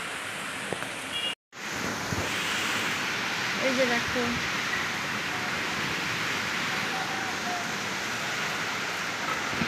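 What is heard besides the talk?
storm wind and heavy rain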